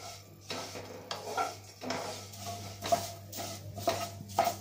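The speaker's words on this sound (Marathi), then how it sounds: "साजू तूप हलकस गरम झालं ना तर याच्यामध्ये आपण शेव घालूया. आणि चांगली तांबूस रंगावर आपल्याला भाजून घ्यायचे." Vermicelli roasting in ghee in a pan is stirred with a utensil, producing repeated scraping and clinking strokes against the metal at an uneven rhythm over a faint background hum, fairly quiet and without talk.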